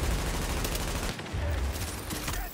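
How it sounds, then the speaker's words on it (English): Sustained gunfire from the video game Tom Clancy's The Division, a dense continuous burst of shots running through the whole moment, loud and close with a brief dip midway. "I'm just standing here shooting."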